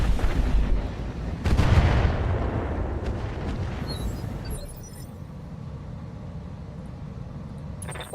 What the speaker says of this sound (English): Missiles are out.